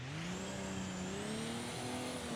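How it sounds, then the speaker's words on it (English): A turbo diesel car in Assetto Corsa revving high, its simulated engine holding a strong sustained drone that climbs steadily in pitch, loud and continuous with no talk over it. "for being a diesel, it really revs high."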